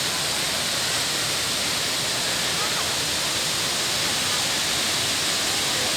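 Haew Suwat waterfall in full flow, a steady loud broadband roar of rushing water that fills the scene continuously without pause.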